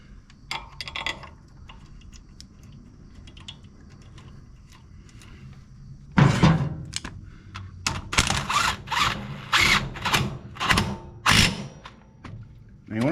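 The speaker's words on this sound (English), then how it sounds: "This impact gun does almost perfect as far as torquing it goes." An impact gun tightens a bolt on a Simplicity Broadmoor riding mower, coming in as a loud run of sharp, rapid hammering bursts after six seconds, following quieter ticking and clicking handling sounds.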